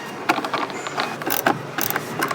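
Ratchet wrench tightening two bolts on a Tata Nexon car door panel, a series of quick close clicks and ratcheting bursts in an uneven rhythm.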